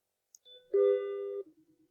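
A small bell above a shop door rings once, a single clear chime that swells and then fades over about a second, close and alone in otherwise quiet surroundings.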